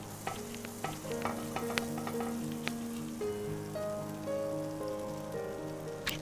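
Butter sizzles softly and steadily in a frying pan while being brushed around, a continuous fine crackle with a few sharper clicks over a faint background tone.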